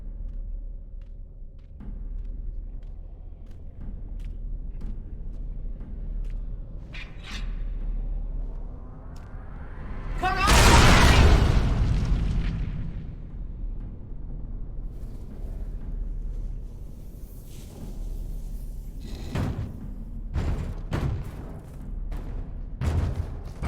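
An anvil is destroyed in Dragon Age: Origins: a single loud, roaring explosion bursts out midway through a low ambient rumble, then fades back to the background drone with a few scattered sharp hits.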